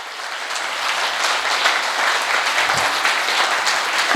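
Audience applause at an Enagic Kangen Water seminar session, a dense sustained clapping from a crowd that swells in quickly and stays loud throughout.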